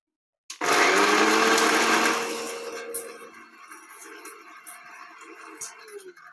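A mixer grinder runs at home grinding curry leaf spice powder, a loud close whirring burst that starts abruptly, then drops in pitch and loudness as it slows and keeps rattling faintly.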